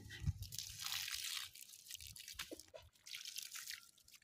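Water is poured outdoors at a compound, a faint, uneven trickling and splashing with a few drips, continuing with brief pauses.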